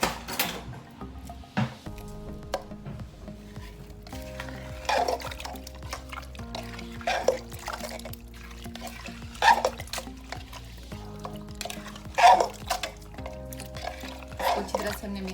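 Onion and tomato being stirred into a raw beef curry mixture before it goes on the stove, with repeated scraping and wet squelching strokes at a moderate, uneven pace and a voice talking underneath.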